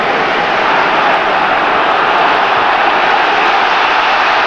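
A packed stadium crowd roars at a Premier League football match between Leeds United and West Ham in 1999, a loud, steady, unbroken wash of noise with no clear individual voices.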